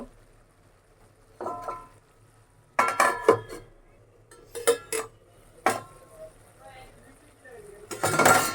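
Metal lid and utensil clatter over a pan of Malabar spinach being cooked as a vegetarian-style dish: several sharp clinks and knocks in bursts, with a louder rattle near the end, under light background talk.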